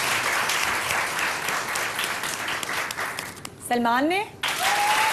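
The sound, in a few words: studio audience applauding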